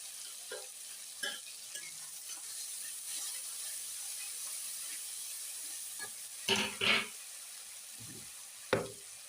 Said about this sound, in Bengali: আদা রসুন পেস্ট দিয়ে দিলাম।